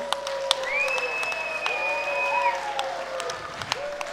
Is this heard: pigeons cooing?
no